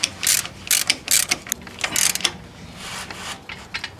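A ratchet tightens a motor mount bolt on a Chrysler PT Cruiser, with quick bursts of close, crisp clicking in uneven runs separated by short pauses, no talking.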